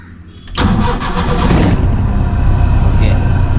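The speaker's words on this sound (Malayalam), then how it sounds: "അപ്പോൾ വണ്ടി സ്റ്റാർട്ടിലാണ്" A car engine cranks and catches about half a second in, then settles into a steady, loud idle close by, with no talk over it.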